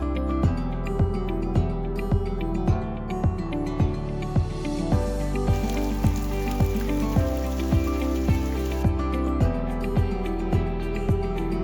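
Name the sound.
rain falling on town square puddles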